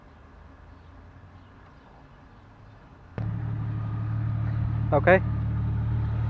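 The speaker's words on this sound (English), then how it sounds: "the vehicle is running almost for 15 minutes now" A Jeep XJ engine running after a Seafoam carbon-cleaning treatment, quiet at first then louder and steady from partway through, a continuous low idle rumble; a person speaks briefly near the start.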